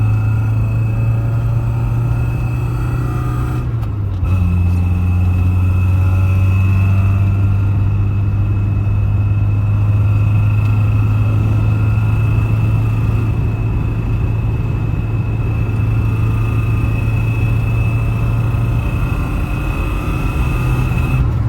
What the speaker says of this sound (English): You can still hear the engine pretty good